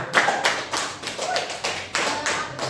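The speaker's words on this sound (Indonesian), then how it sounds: "Tepuk tangan dulu untuk Mbaknya" Applause for a student presenter in a microteaching class, a small group clapping in uneven bursts with soft tapping thuds, close by and moderately loud, with no talk over it.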